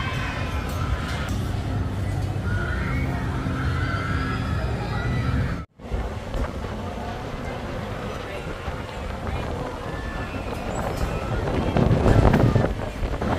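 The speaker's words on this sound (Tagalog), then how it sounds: "Ang lakas ng hangin dito." Strong wind roars and rumbles steadily against the microphone at the Enchanted Kingdom theme park, briefly cutting out once, while people speak under the gusts.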